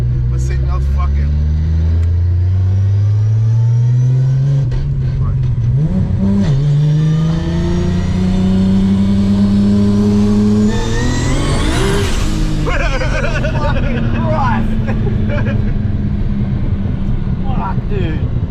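A Nissan GTR with a T88 turbo accelerates hard on the street, its engine note rising loud and close through the gears with a brief dip, then climbing to a high whine and settling, while people talk excitedly inside the car.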